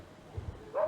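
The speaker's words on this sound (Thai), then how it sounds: "เสียงหมาเห่า" A pair of short, low dog barks from the video game Eleutheromania, followed by a brief high yelp or whine, fairly quiet overall.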